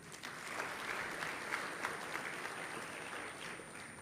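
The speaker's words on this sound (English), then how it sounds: "Now I want another round of applause for yourselves for achieving this and contributing to this." An audience at the launch of the Rwanda FinScope 2024 report claps steadily for about four seconds, a dense sustained round of applause at moderate distance with no talking.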